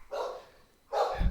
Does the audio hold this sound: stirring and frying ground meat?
no